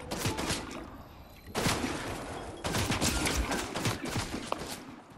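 Rapid gunfire bursts from the video game Fortnite, dense crackling volleys in two or three loud stretches with no talk over them.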